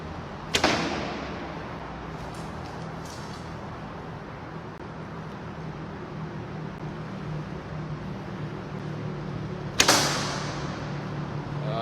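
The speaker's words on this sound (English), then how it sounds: "Those are the sound of the arrows hitting each other." Arrows in a modular tactical archery quiver knock against each other, two sharp clacks separated by a long stretch of low background hum, with faint rattles in between.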